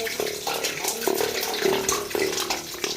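Water gushes from a newly drilled borewell in a steady, loud, close rushing and splashing flow that continues throughout, with faint voices in the background.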